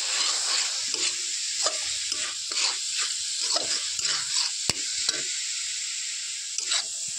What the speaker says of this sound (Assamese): লৰাই আছোঁ।